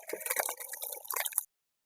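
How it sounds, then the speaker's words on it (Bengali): Thick mutton-fat ghugni poured out of a cooking pan, a brief close wet slop and drip of liquid lasting under two seconds before silence. "এবার ঢেলে নেব"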